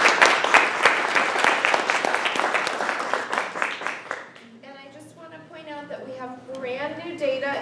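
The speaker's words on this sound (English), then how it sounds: "let's give him a round of applause" Audience applause after a lecture at a community meeting, a dense patter of many hands over about four seconds that thins out as a voice begins speaking over the tail.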